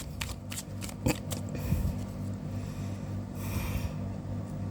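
Tarot cards shuffled by hand in a quiet room, a soft run of riffling and sliding with a few sharper flicks, faint and close.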